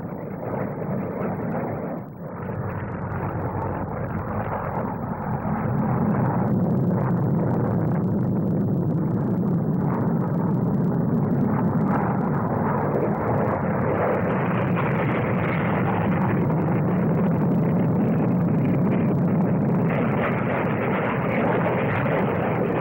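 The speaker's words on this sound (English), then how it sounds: "Basic 5 aircraft of the aerobatic team, cutting the sky with lovely curves" A five-jet aerobatic team roaring overhead at the 1958 SBAC Farnborough flying display, a loud continuous engine rumble and whine that swells and holds as the formation sweeps across the sky.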